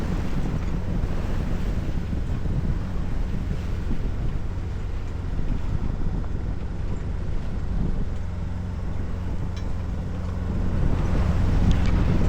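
Strong wind buffeting a sailboat at sea, a loud continuous roar of gusts and microphone wind noise over rushing water and a low hull rumble, no voices.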